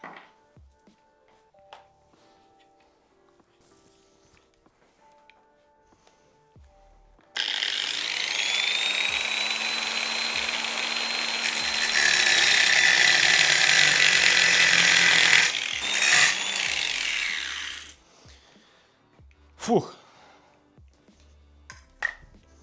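An angle grinder cuts off a broken bolt in a car cylinder head, a steady loud whine that builds for about ten seconds and then cuts out, followed by a few clanks.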